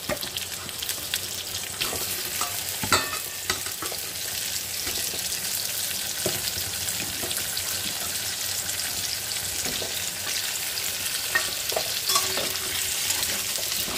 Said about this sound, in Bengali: তেলটা গরম হয়ে গেছে অলরেডি। আমি এখানে একটু বেশি পরিমাণে পোটাটোটা দিচ্ছি।